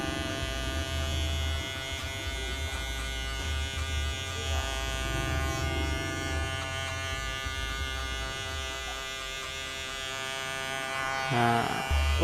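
Electric hair clipper with a guard buzzes steadily and close while cutting a taper fade. A voice talks faintly underneath.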